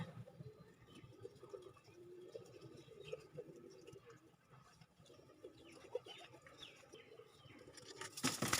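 Soft, low pigeon coos repeat at a distance amid faint rustling inside a pigeon house with nesting birds, ending with a brief louder burst of noise.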